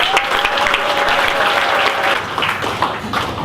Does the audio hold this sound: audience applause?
yes